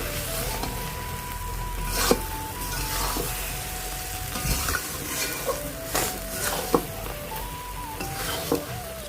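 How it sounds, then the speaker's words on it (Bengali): Kidney beans (rajma) with potatoes and spices frying and being stirred in a pan, a steady sizzle broken by scraping spatula strokes and occasional metal clinks, with a faint tonal hum running beneath. "আমি রাজমাটা দিয়ে আরও একটু হালকা করে ভেজে নেব, তাহলে রাজমাটার সঙ্গে মশলাটা ভালো করে লেগে যাবে।"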